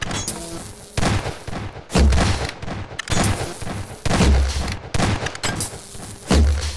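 Gunfire in a household-themed Five Nights at Freddy's game as animatronics are shot with an SMG and sniper, loud booming shots in repeated bursts about once a second, with no voice over them.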